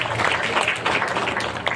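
Applause fills a school award ceremony in Bijapur, Chhattisgarh, honoring a teacher's students; a dense, steady wash of many hands clapping runs for the whole short stretch at an even loudness.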